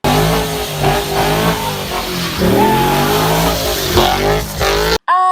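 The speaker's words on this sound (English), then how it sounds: "The sweet soothing sounds of a Holden E Commodore mid-burnout" A Holden E Commodore doing a burnout, its engine revving hard and steadily with squealing tyres, loud and close throughout, ending in a sudden cut.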